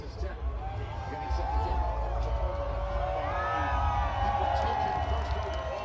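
A dense crowd of Cardinals fans murmurs and reacts at an NFL Draft party in Glendale, a steady close-packed hubbub with some cheering mixed in under the noise.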